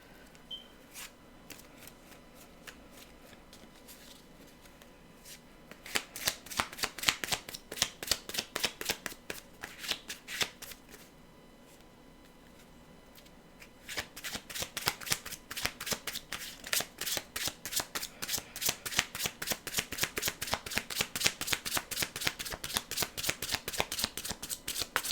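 Old, worn, soft paper tarot cards being shuffled by hand: long runs of rapid riffling flutters, close and fairly quiet, broken by a brief pause before the shuffling starts again.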